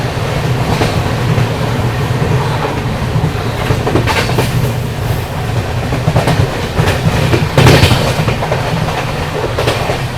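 Heard from aboard the moving Naharlagun–Guwahati Shatabdi Express with Vistadome coaches: a steady loud rumble with rhythmic wheel clatter and occasional sharper clacks as it runs past a small station.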